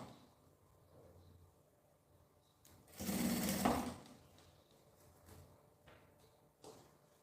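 A sewing machine runs one short burst of stitching along folded fabric for a toiletry bag, about a second long, with a quiet room around it.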